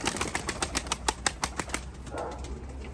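Pigeons take off and fly close by, their wings clapping in a rapid run of sharp beats that slows and fades into softer rustling after about two seconds.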